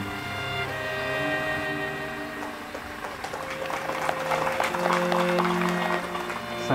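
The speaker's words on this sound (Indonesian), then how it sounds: "Saya harap tepuk tangan ini menjadi tanda setuju." An audience at a church groundbreaking and inauguration applauds, and the clapping swells in the second half over sustained musical tones, moderately loud and diffuse.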